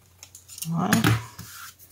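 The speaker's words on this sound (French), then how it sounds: "Je vais recouper un tout petit peu." Scissors trimming a handmade greeting card, a single short close snipping cut of about a second, crisp and moderately loud.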